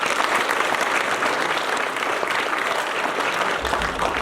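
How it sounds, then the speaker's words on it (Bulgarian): Steady, dense applause from a theatre audience at an awards presentation following an amateur stage play in Gulyantsi, Bulgaria, 2024, loud and continuous throughout with no voices over it. "аплодисменти."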